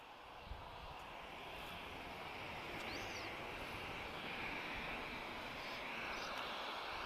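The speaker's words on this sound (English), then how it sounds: "Ok, a seguir temos 737 a chegar da Transavia." A Transavia Boeing 737-8K2 arriving at Lisbon Airport; a distant, steady jet engine roar that gradually swells over several seconds, heard without voices.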